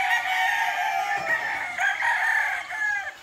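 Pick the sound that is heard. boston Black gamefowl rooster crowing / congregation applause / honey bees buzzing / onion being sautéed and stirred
boston Black gamefowl rooster crowing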